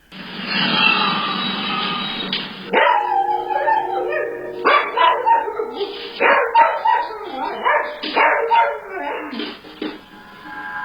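A dog indoors barks, yips and whimpers in a frantic, panicked burst of repeated loud barks close by, with a howl-like whine at the start. A voice is also heard.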